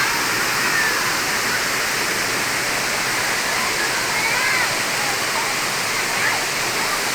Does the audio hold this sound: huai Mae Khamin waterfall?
yes